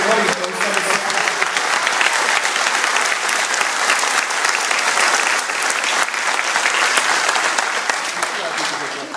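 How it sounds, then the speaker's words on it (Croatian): Sustained, dense applause from an audience at a political gathering in Mostar, loud and steady throughout with no voice over it, tapering slightly at the end. "pozivam vas sve da ga još jednom pozdravite aplauzom"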